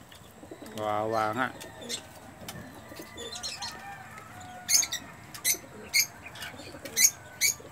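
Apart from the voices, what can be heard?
pigeons cooing and flapping wings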